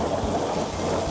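Steady, dense rain pours down with low rumbles of thunder rolling underneath, a continuous, full-band storm sound with no voices.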